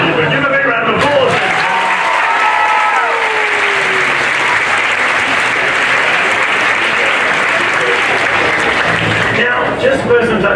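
A stage show audience breaks into a big round of applause, loud dense clapping that swells and holds for about ten seconds with faint voices near the start and end.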